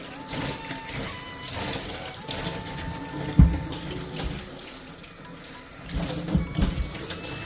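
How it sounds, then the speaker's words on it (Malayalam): Tap water runs into a sink over a block of frozen fish taken from the freezer, a steady close splashing stream with a thud and some handling noises partway through. "നമ്മുടെ ഈ ഫിഷ് എടുത്ത് ഇതേപോലെ നമുക്ക് സിങ്കിൽ വെച്ച് കൊടുക്കാം എന്നിട്ട് കുറച്ച് വെള്ളം ഒന്ന് നനയ്ക്കാം"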